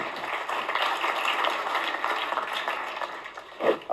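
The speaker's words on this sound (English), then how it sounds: "Give them both a round of applause as they go back to their seat" Audience applause at a magic show as two volunteers return to their seats after a card trick, a steady wash of clapping that fades toward the end before a brief louder burst.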